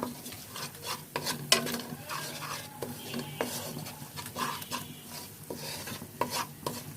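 Spices for achari begun sizzle in a hot pan while a utensil stirs and scrapes them in steady, repeated strokes, with frequent soft clinks against the metal and no talking.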